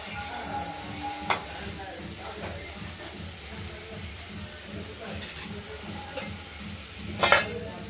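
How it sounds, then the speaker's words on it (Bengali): Water poured into a spice paste sizzling in oil for a boal fish curry, over a steady fry and rhythmic stirring, with a sudden louder hissing burst near the end. "এবার আমরা জল দিয়ে দেবো।"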